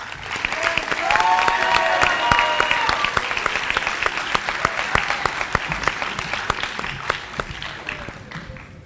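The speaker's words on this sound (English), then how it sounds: "Let's give him one more round of applause" A school awards assembly audience gives a round of applause with some cheering and whoops, individual claps standing out nearby, building quickly and then tapering off as the clapping thins.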